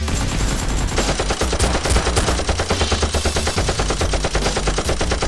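Nerf guns fire in a game of play combat, producing a rapid, continuous stream of shots in a loud, dense burst that runs for several seconds without pause.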